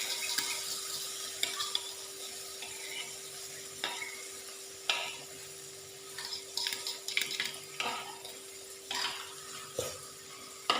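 Eggs sizzle and fry in a pan for a Thai cha-om omelette, a steady crackling hiss broken by scattered clinks and scrapes of a utensil stirring against the pan.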